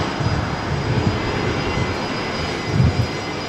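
A Boeing 747 jet taxiing into its bay at Brisbane Airport, with a steady, loud engine roar and a couple of brief swells in the rumble.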